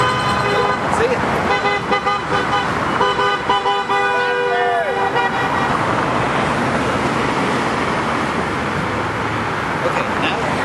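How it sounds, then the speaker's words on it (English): Car horns from passing traffic at a roadside picket toot in several bursts over steady road noise, with vehicles rushing by, and then the honking fades into traffic wash. "I can tell for sure who's honking for me"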